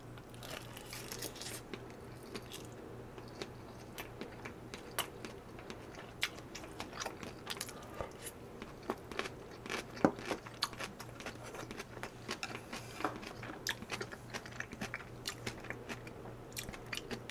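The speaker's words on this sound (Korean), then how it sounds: "국물도 먹을게요, 잠시만요." Someone eats beef shabu shabu with its broth up close, producing many small wet mouth clicks, sips and chewing sounds that crackle steadily throughout.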